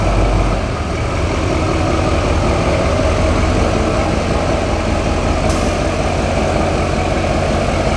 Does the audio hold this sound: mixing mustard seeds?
no